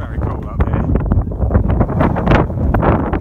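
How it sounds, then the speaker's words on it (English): Strong, gusty wind roars across a cold mountain summit in the clouds on the Appalachian Trail, buffeting the microphone loudly and steadily throughout. "I know it's windy, but there it is."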